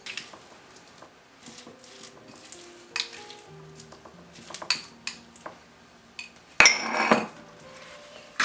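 Cream cheese and cottage cheese sandwich stuffing is stirred in a bowl, giving scattered clinks and scrapes of a utensil against the dish, quiet between strokes with a louder clattering burst near the end.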